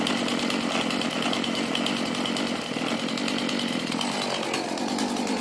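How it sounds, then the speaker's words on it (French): A Stihl MS 170 chainsaw engine runs loud and steady up close after starting, a dense continuous two-stroke buzz with no voices. "Voilà pour la procédure de démarrage d'une tronçonneuse style MS 170."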